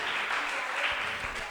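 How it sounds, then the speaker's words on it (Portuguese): A church congregation at an evening praise and worship service applauds in a dense, steady wash of clapping that holds at an even level throughout. "Aplauda o nome dele"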